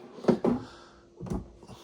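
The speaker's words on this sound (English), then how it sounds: "A little bit of storage up underneath here with a pull-out drawer." A small pull-out storage drawer in a Grand Design Imagine 2300MK RV slides and bumps: a couple of quick soft knocks, then another thud after a pause, close and fairly quiet.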